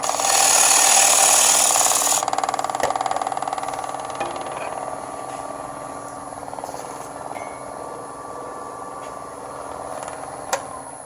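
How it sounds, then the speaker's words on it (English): A woodturning lathe runs while a tool scrapes the high spot at the tenon of a natural edge wood bowl. A loud, bright scraping burst opens the clip, then the spinning workpiece settles into a steady, quieter hum with faint ticks. "Got a little bit of high right there where the tenon is, so I'll scrape it out a little bit."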